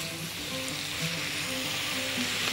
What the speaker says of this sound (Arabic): بصوا بقى الصوص بدأ يتقل، نقلب كويس